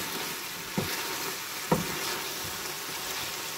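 Vegetables for an Asian stir-fry sizzling in a pan, a steady soft crackle with two brief scraping clunks of a utensil stirring, close but quiet.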